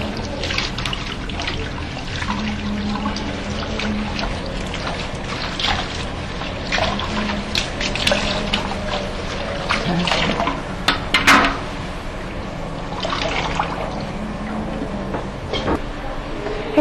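Running water rinses shampoo out of hair, a steady splashing trickle with brief louder gushes throughout.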